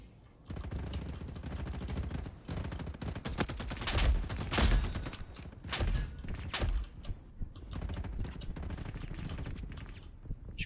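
Rapid bursts of automatic gunfire and scattered shots crack loudly in a Roblox war game, with heavy recoil on the weapon and a few thuds between volleys.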